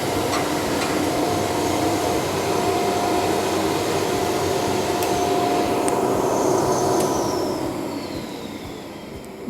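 An industrial suction machine with a 1.5 HP blower motor roars steadily and loudly with a broad whooshing hum and a faint tonal whine, a few clicks punctuating it, tapering off slightly at the end.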